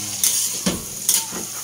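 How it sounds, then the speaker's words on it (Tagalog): Stirring food in a hot pan for a Filipino noodle dish, with three brisk scraping strokes over a constant close sizzle. "So after yan, haluin-haluin muna natin."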